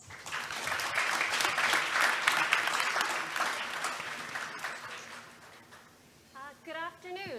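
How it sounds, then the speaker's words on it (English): Applause from a conference audience at a roundtable and closing session, a dense sustained wash of clapping that swells and slowly fades, followed by a few spoken words near the end. "please welcome all of them with a big round of applause"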